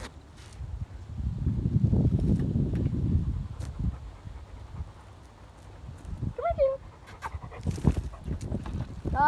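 A dog pants in quick rhythmic breaths close by, with brief high squeaks and rustling around it.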